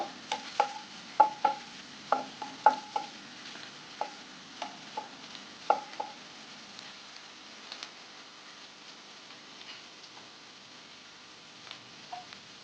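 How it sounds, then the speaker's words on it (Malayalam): Green chillies stirred in a pan for paneer butter masala, a spoon tapping and scraping the pan in a steady run of sharp ticks over a faint sizzle, close by with no talk. "ദെൻ പച്ചമുളക് ഇട്ട് നന്നായിട്ട് ഇളക്കി കൊടുക്കുക."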